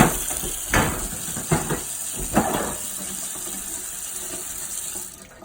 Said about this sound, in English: Give that a quick rinse.